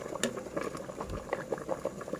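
Eggs boiling in a pot of water, a steady bubbling and popping patter close by, with brief small splashes and no voices.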